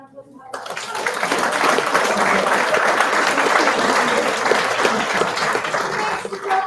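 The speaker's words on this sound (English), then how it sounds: "Give her a round of applause." After a brief moment of talk, an audience at an evening snowpack presentation in Fernie breaks into steady applause that swells quickly and holds loud and even.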